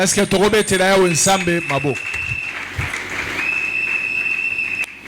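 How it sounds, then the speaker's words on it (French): A church congregation at a Friday worship service applauding, a soft diffuse patter of clapping rising after a pastor's exhortation and continuing under a faint sustained tone, with speech at the start. "Est-ce qu'on peut acclamer Yahweh notre Dieu?"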